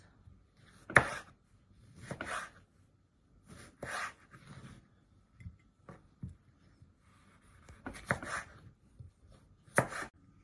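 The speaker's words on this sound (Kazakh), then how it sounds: "Қиярымызды осылай турап аламыз." A kitchen knife slices a peeled cucumber lengthwise on a cutting board for sushi, giving about eight irregular, crisp cutting strokes separated by short pauses, close and fairly quiet.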